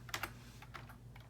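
Keystrokes on a computer keyboard as an address is entered into a fire department's digital mapping search, a few quick taps heard close and alone over a low steady hum.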